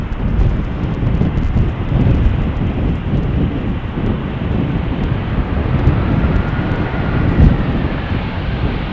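An airliner coming in to land on runway 18R at Amsterdam Schiphol in gusty crosswind conditions, a steady broad roar of engine noise mixed with heavy wind buffeting on the microphone throughout.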